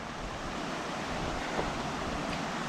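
Stream water rushing at Muddy Fork on the Mt. Hood Timberline Trail, a constant dense roar with no breaks, heard close.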